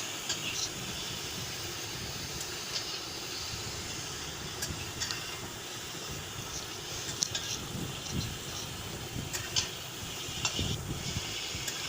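Prawns frying in a little oil in a kadai, a soft steady sizzle with light crackles and occasional clinks of stirring, fairly quiet and close, under low background noise.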